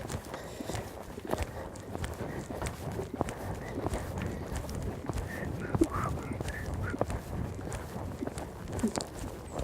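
A young eventing horse trots in an arena during a schooling session, its hooves beating out a steady, even rhythm close by, with a rider or trainer talking now and then over the footfalls.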